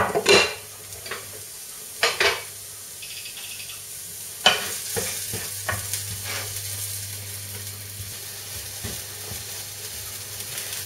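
Artichokes sizzle steadily on a hot griddle with a sprinkle of salt, a low continuous hiss broken by a few sharp utensil clinks and scrapes near the start, then settling into even frying noise.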